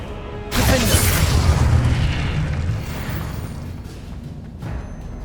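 Confringo blasting spell explosions in Hogwarts Legacy, a loud booming burst opening the clip and then rolling into a sustained rumble that slowly fades, with a smaller blast near the end.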